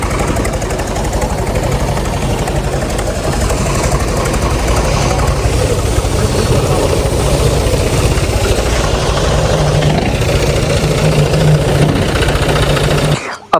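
A John Deere 5310 tractor engine runs steadily and loud throughout, a dense continuous diesel chug with a low rumble and mechanical rattle, cutting off abruptly at the very end.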